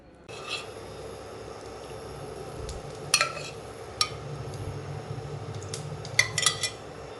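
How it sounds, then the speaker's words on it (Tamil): Boiled potatoes mashed in a metal bowl for potato bonda, unsalted, with a steady scraping and rubbing texture and a few sharp clinks of a utensil against the bowl, close up and without talk. "இதை முதல்ல மசிச்சு விட்டுக்கலாம்"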